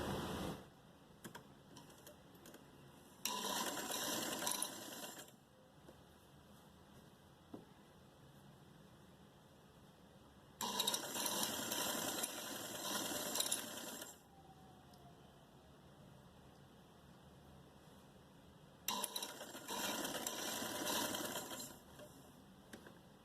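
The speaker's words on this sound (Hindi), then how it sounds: "इसके लिए हम यहाँ से सिलाई लगाना शुरू करेंगे।" A sewing machine stitches a designer short frock in three separate bursts of rapid whirring, each lasting a few seconds, with quiet handling noises between them.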